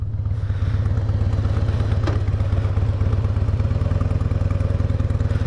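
A 2004 Harley-Davidson Softail motorcycle pulls away, its loud, close V-twin engine thumping in a steady rapid rhythm throughout, with a brief rattling clatter partway through.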